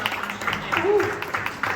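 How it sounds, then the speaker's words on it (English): Audience applause breaks out at a community organizing panel, a moderate spatter of clapping at steady volume with some room murmur. "so round of applause"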